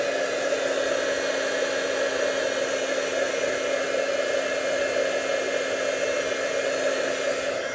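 A heat tool dries watercolor paper for a card background, its loud, unbroken blowing roar holding steady from start to finish with no talking.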